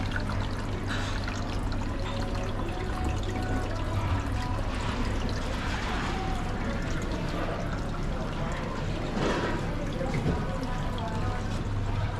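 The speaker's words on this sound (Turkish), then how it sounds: "su akıyor içinde" Water flowing steadily as a constant pouring, trickling rush that stays at an even level throughout.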